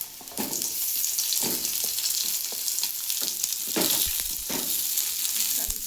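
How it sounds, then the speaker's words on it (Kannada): Onion fries in a pan for North Karnataka kadlebele sambar, a close, steady sizzle broken by repeated scraping stirs, with no one talking. "ಆಮೇಲೆ ಚೆನ್ನಾಗಿ ಫ್ರೈ ಆಗುತ್ತೆ. ಆಮೇಲೆ ಉಳ್ಳಾಗಡ್ಡಿ,"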